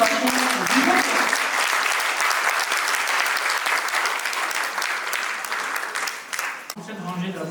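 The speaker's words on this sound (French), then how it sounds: "je vous prie également d'ovationner leader Dieudonné avec une ovation vivante" A summit audience at the Africa Trading Summit 2025 gives a standing ovation to a leader: loud, dense, sustained clapping from a large crowd that fades into a voice at the end.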